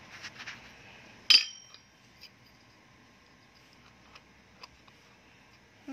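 A lid set down on a miniature cooking pot of chicken and potato curry gives one sharp, close clink, followed by a few faint ticks against a quiet indoor background.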